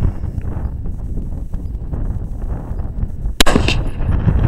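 A rifle or pistol fires once outdoors, from a father and son shooting an S&W AR-15, Mossberg 500 and S&W 9mm. A single sharp, loud crack comes late against steady wind noise.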